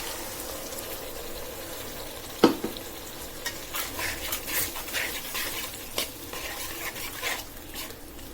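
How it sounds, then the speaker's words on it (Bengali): Ground spice paste soaked in water frying in a pan with whole cloves, cinnamon, black pepper and cardamom, for a water taro dish with fish head and tail; a steady sizzle with stirring scrapes and a sharp clatter near the start. "এবার আমি এই যে পানিতে ভিজিয়ে রাখা গুঁড়া মশলাটা দিয়ে দিচ্ছি।"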